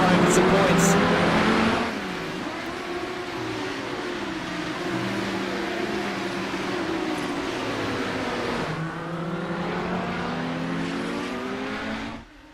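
Race cars in a sim racing video game, a continuous loud engine drone with shifting revs and gear changes under steady commentary talk throughout.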